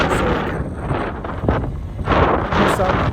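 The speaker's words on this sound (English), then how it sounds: "It's pretty windy today." Strong gusty wind at Chino Hills State Park buffets the microphone with loud rumbling blasts that rise and fall.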